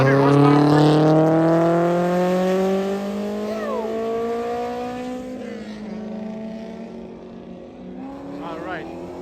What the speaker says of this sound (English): Someone else is coming that's been revving their engine.